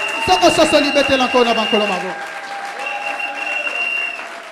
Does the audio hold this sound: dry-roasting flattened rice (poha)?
no